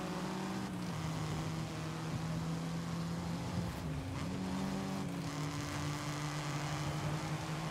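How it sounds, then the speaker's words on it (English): Sustained engine and exhaust drone of a 2010 Volkswagen Golf R in the Forza Horizon racing game, a steady loud tone with slight pitch shifts as it holds speed, no talking. "Now the exhaust is a little annoying."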